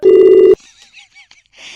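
A telephone rings loudly in one steady electronic burst, then cuts off and leaves faint background sounds. The setting is a comedy prank call.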